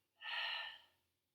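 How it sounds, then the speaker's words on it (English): A single soft, close breath, part of a pelvic floor workout, rises and fades over about a second, with a faint, airy sound in a quiet room. "Breathing in. Breathing out. Breathing in."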